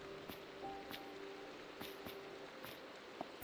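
Rain falling in the video game Minecraft, a faint steady hiss with scattered soft patters throughout, quiet and continuous with no talking.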